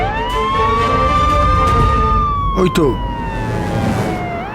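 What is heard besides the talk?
police car siren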